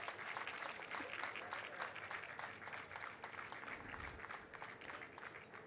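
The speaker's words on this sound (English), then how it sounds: "A round of applause, audience" A conference audience at an Islamic economics and finance event applauds an award presentation, a faint, steady, distant clatter of many hands with some crowd murmur underneath.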